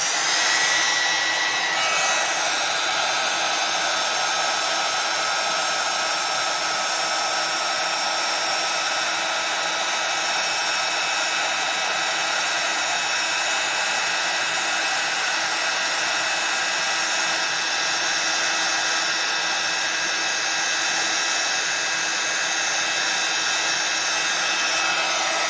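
A handheld heat tool blows steadily over Wow embossing powder on a Gelli plate, melting it with a loud, continuous whirring hiss that barely changes for about twenty-five seconds, with no speech.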